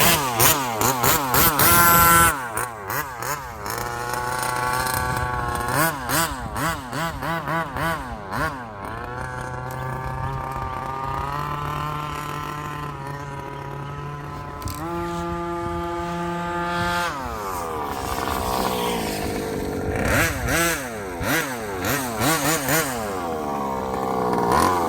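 A 30cc gas engine in an RC street car runs loud and close, buzzing and revving up and down continuously with rising and falling pitch sweeps for about twenty-five seconds, no talk.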